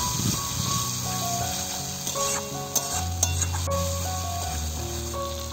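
Spice masala with chopped tomato being stirred and fried in a pan, a continuous sizzle broken by scraping spatula strokes and a few sharp metallic clinks, with no talking.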